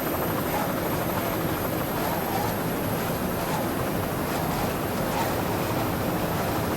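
A 1987 offshore racing powerboat at high speed on open water gives a steady, loud, droning engine roar with wind and hull rush, unbroken throughout.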